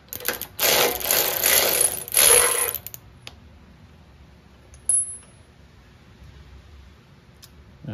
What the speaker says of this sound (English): now we'll take our spark plug out. This is a 13/16 socket.